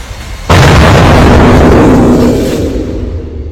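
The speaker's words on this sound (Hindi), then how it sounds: "कई इलाकों में लगातार धमाकों की आवाज सुनी गई" A sudden loud explosion from a missile strike in the Strait of Hormuz area of Iran bursts out after a brief rumble, then a sustained roaring blast that slowly fades.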